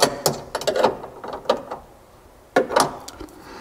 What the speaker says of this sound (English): I'm just going to get a wrench real quick and tighten that down.